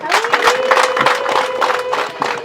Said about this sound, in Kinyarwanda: amashyi menshi kuri aba basaza